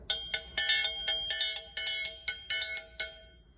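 A triangle struck with a beater rings out in a fairly steady pattern, about a dozen bright tings with lingering shimmer, clear and close with no talking.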